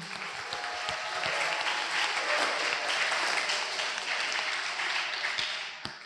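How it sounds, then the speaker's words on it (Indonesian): Santri students at Darul Ilmi Islamic boarding school applaud during a general discussion session, producing a sustained, even roar of many hands that swells and holds before trailing off near the end. "Tepuk tangan dulu dong."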